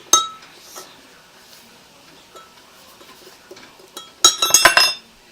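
A spoon clinks against a container while sugar is mixed into homemade hummingbird food, with a few faint taps at first and a quick burst of bright clinks near the end.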